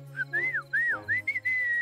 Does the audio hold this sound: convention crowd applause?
no